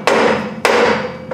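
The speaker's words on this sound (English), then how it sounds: "hit right here with a plastic hammer so you don't damage nothing" A plastic hammer strikes a car's drive shaft at the pinion flange during an automatic transmission replacement: two loud, sharp, close blows about half a second apart, each ringing briefly, with no talk.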